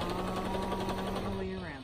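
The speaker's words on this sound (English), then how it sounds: "I'm just gonna start sewing" A sewing machine runs in a steady, fast mechanical whir while stitching a quilted car seat poncho, close and continuous, slowing slightly at the end.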